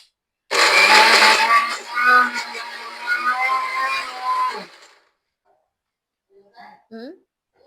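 Mixer grinder whirring loudly for about four seconds while blending a creamy tiramisu mixture, then stopping; brief faint sounds follow.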